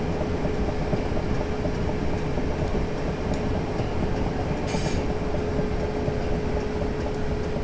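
A train in the video game Train Simulator 2018 rolls into London Waterloo with a steady, loud rumble and a faint whine, plus a brief hiss partway through, with no voices.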